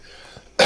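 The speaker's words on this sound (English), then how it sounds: "pardon my cough." A single sharp cough bursts out near the end, loud and close, after a stretch of near silence.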